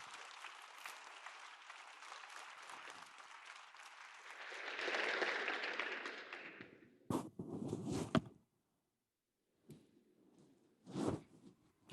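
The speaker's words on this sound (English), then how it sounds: "please give them a round of applause" Conference audience applauding panelists at a Brussels session: sustained clapping swells, then fades, followed by scattered thumps, rustling and shuffling as people move about, with a brief silence between.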